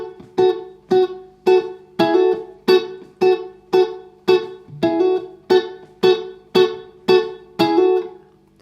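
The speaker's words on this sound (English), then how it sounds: "So this part's a syncopated 8th note type of part" An electric guitar plays the syncopated offbeat eighth-note double-stop part from a song, thirteen short, choppy stabs in a steady groove, close and alone with no talk.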